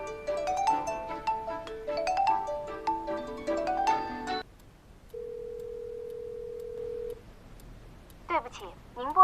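A telephone call goes unanswered: a quick series of dialing tones, a single long ringback tone, then a brief burst of a recorded voice announcement.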